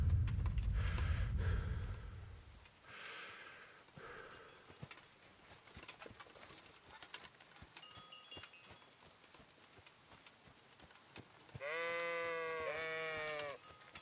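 A sheep bleats several times in quick wavering calls near the end of a Kingdom Come: Deliverance game scene, after quieter ambient rustling and faint clicking footsteps.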